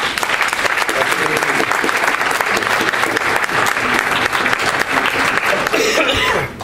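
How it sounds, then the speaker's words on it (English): An audience at a campus talk applauds for a speaker in a loud, dense, sustained round of clapping. A few coughs and light laughter are mixed in, and the applause thins out near the end. "So give him a big round of applause."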